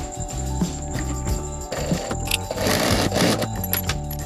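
Sewing machine stitching double D-rings onto a large dhol travelling bag, a loud, close, rhythmic mechanical chatter that speeds and slows slightly over several seconds with no talking.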